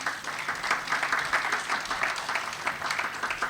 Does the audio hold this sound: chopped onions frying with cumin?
no